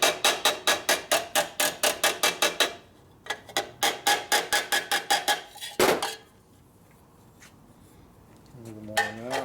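A hammer strikes a metal part from a 1958 Harley panhead, knocking out dents with rapid, evenly spaced ringing taps, then a few scattered hits and one louder blow, all close up.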